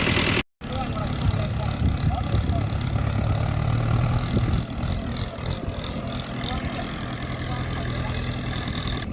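A tractor pulling a full tipping trailer of maize silage drones with a steady low engine rumble that fades briefly at the start, then runs on continuously with rattling, and a voice speaks over it.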